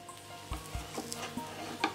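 Pumpkin and egg pancake frying in a pan gives a soft, quiet sizzle, broken by a few faint clinks and taps from a utensil against the pan.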